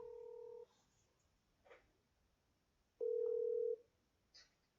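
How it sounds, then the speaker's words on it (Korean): Telephone dialing tones from a call being placed: two steady tone bursts, one at the start and a longer one about three seconds in, with faint clicks between and no voices. "지금 전화합니다."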